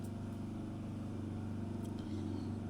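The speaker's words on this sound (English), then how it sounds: "Here comes the sound of Lagos traffic." Car engine in Lagos traffic, a steady low idling hum with a slight pulsing rumble, close and continuous, no voices over it.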